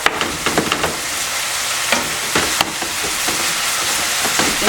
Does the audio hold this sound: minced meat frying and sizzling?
yes